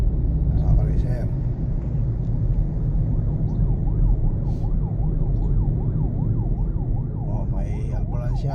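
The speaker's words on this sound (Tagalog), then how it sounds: "oh, may ambulansya mga ka-racer." A wailing ambulance siren sweeps up and down repeatedly amid steady traffic rumble on C5 Road toward BGC, growing clearer midway through.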